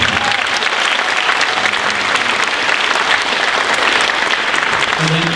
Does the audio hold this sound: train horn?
no